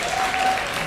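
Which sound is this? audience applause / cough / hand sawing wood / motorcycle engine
audience applause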